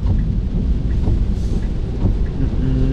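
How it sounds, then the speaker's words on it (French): Heavy rain drums on an electric car driving on the motorway, a loud, dense, rumbling wash of road and rain noise that stays constant throughout. "il pleut pas mal et par intermittence, donc ça n'arrête pas de changer"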